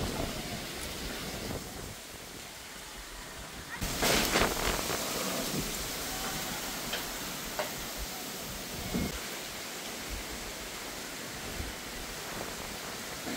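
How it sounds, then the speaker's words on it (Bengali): Large raindrops fall in a steady broad hiss during a late-spring storm in Jamalpur, growing louder partway through with scattered sharper drop hits and a low rumbling undertone. "অনেক বড় বড় বৃষ্টির ফোঁটা।"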